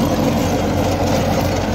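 Farmtrac 65 EPI tractor running with an Agrostar rotavator attached, a steady low engine drone heard up close throughout with no speech over it.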